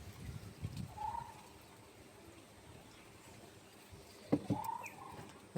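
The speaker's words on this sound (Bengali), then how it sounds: "এইখানে কবুতর দেখুন।" Pigeons coo softly on a rooftop, two faint, short coos a few seconds apart against quiet outdoor background noise.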